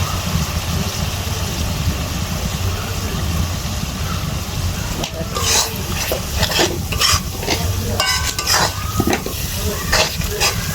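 Chicken with chili and turmeric powder sizzles loudly in a pan, a continuous frying hiss that gains scraping stir strokes and sharp clatters in its second half.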